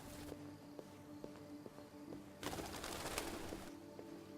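Birds cooing softly amid a quiet ambient game scene in Detroit: Become Human, with faint footsteps ticking at a steady rhythm and a louder rustling wash near the end.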